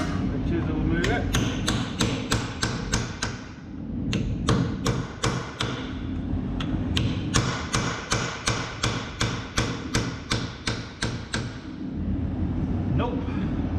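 Repeated hammer blows drive a chisel against the rear brake of a Ford Transit van, a long run of sharp metallic strikes in steady rhythm with a brief pause, loud and close, with some speech in the background.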